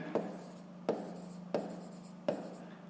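Pen strokes on paper while working a fifth-grade maths exercise, four short scratchy bursts at a steady pace, close and fairly quiet over a faint steady hum, no talking.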